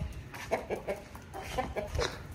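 A rooster clucks in a quick series of short, close calls, with a few louder bursts standing out over faint background noise. No one speaks.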